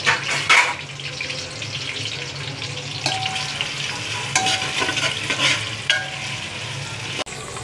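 Onions fry in a pan for chicken biryani, a steady close sizzle broken by scraping and clinking stir strokes, with no talk.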